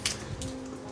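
Rainwater drips and splashes straight off the edge of a house roof with no guttering, a faint patter of irregular drops close by just after rain stops.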